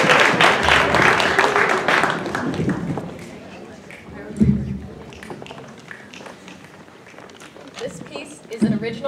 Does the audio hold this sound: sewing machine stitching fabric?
no